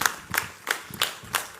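Applause for Amitabh Bachchan, heard as a few loud, separate hand claps at a steady beat, close by, with no talk over them.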